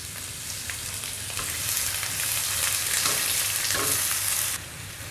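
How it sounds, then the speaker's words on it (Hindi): Sliced medium onion sizzles steadily in hot oil with spices over a high flame, a dense continuous frying hiss that swells slightly in the middle with faint stirring scrapes, no voices. "प्याज को हमें गोल्डन ब्राउन होने तक पका लेना है"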